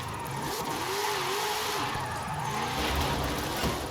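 The Knight Rider show car's engine drifting in Forza Horizon 5, a steady mid-pitched revving drone that wavers in pitch as the car slides through a corner, close and continuous.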